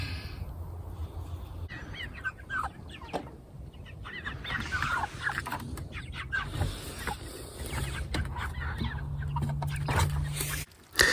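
Live chickens cluck and squawk at an outdoor chicken processing area, with scattered calls near and far, a steady rustle underneath and a low hum joining toward the end.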